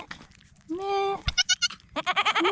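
A goat brought home for slaughter bleats loudly and close by: one long wavering cry, then a run of short quavering bleats, a pause, and another stuttering series of bleats, with a sharp knock in between.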